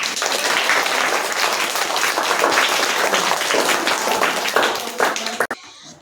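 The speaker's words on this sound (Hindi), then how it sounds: "इसके लिए जोरदार ताली।" A crowd applauds loudly and steadily for a Hamd competition third-place winner at a children's recitation event, dense clapping running several seconds before cutting off abruptly near the end.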